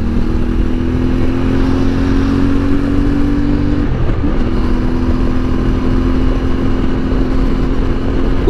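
A CFMOTO 450MT touring motorcycle is heard while riding, its engine a loud, steady drone under heavy wind noise, with a brief dip around a gear change midway before the tone resumes.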